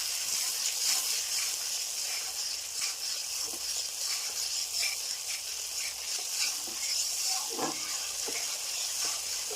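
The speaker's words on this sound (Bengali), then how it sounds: "জলটাও দিয়ে দেবো, দিয়ে ভালো করে কষিয়ে নিতে হবে" Masala stir-fries with a little water for patal curry, a constant bright sizzle with hiss and intermittent scraping stir strokes, close up.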